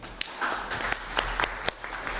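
Short burst of audience applause for a speaker at a gender conference session, scattered individual claps rising from light room noise, fairly close and uneven.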